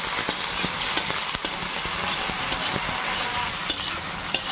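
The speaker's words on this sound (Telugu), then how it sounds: "ఇప్పుడు మిక్స్ చేసుకుందాం" A frying mixture is stirred in a pan, a continuous sizzle broken by frequent scraping and tapping strokes of a spoon against the metal, close and fairly loud.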